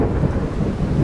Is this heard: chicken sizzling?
no